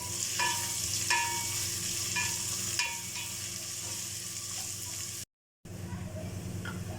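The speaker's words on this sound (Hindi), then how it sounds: "2 मीडियम साइज़ की मैंने प्याज बारीक काट ली है। बिस्मिल्लाहिर्रहमानिर्रहीम। इनको गोल्डन ब्राउन कर लेंगे।" Two medium onions, finely chopped, fry in hot oil for chicken korma, a steady close sizzle with a few soft stirring taps, briefly cut to silence near the end before resuming.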